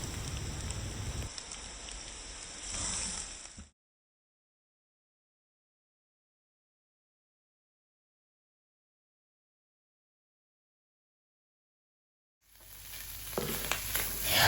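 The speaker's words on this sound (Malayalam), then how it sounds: "ഒരു 5 to 10 മിനിറ്റ്സ് നന്നായിട്ട് കക്കയിറച്ചി റോസ്റ്റ് ചെയ്തെടുക്കുക" Clam meat roasting in masala in a pan for a kakkarachi roast, giving a steady sizzle that runs for a few seconds, cuts to silence and then returns near the end.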